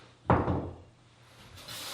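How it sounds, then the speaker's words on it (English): An interior door being installed swings shut with a single solid thud, close and fairly loud, trailing off into quiet room tone. "that the door closes."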